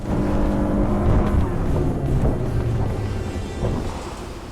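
A Cayman 23 Sport Touring RIB speedboat at top revs, 6,000 rpm and 42 knots: a loud, steady engine roar with rushing water and wind noise carries on throughout, easing off slightly toward the end.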